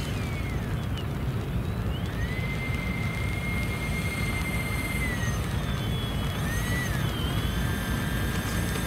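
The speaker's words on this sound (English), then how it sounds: "That's just a smooth sounding plane" A-10 jet engines whining steadily after landing, a smooth sustained roar with rising and falling high-pitched turbine tones, heard alone without talk.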